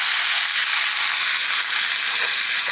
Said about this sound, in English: And then we place our beef.